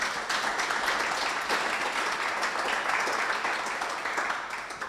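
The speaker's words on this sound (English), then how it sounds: "let's take a moment and clap for ourselves." Audience applause fills the room at a housing nonprofit's annual meeting, with many people clapping in a dense, even stream that holds steady and tapers off at the end.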